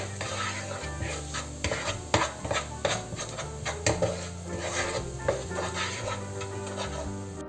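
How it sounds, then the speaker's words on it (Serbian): Garlic and chicken fry in a pan for a chicken ragu, with steady sizzling and repeated scraping, stirring strokes of a utensil against the pan, close and moderately loud, with no talking. "sada ćemo dodati beli luk i pržit ćemo još 1 minut sve zajedno"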